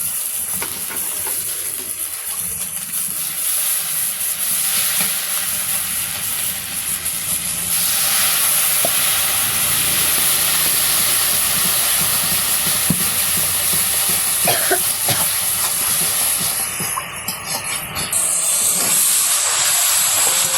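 Onion, green chili, turmeric and ginger-garlic paste sizzle in hot oil for a village-style masala, a loud, continuous hissing fry close by that swells slightly partway through, with faint stirring.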